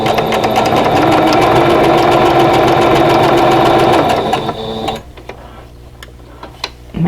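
A sewing machine stitches a quilt block seam with a loud, fast, even mechanical whirring that runs steadily for several seconds, then stops abruptly and leaves quiet clicks and handling sounds.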